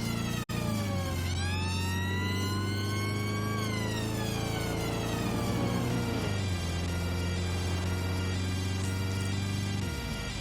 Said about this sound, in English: having an ambulance siren is very useful when you want to get through traffic